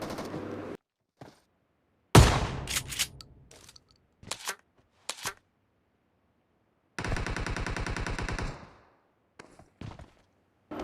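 Gunfire in the video game PUBG: a sharp opening shot, scattered single shots, and a sustained automatic burst of roughly a second and a half, with silent gaps between volleys.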